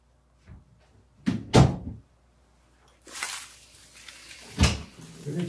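Restroom door opening and closing nearby: a soft click, a sharp knock and thud of the door, then a swishing movement and another firm thump, with quiet pauses between.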